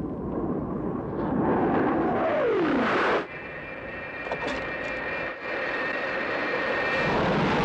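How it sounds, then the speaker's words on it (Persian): Aircraft engines from a film excerpt about the Iranian air force roar steadily, with one plane's pitch sweeping downward as it approaches and passes. A continuous loud rumble and a high whine follow. "سه هواپیمای ناشناس به ما نزدیک میشن."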